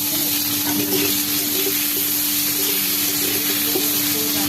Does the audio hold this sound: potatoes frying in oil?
yes